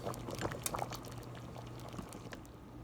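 Red beans boiling in a Cosori cooker, a soft, continuous bubbling and light patter with a steady low hum beneath it and no voices.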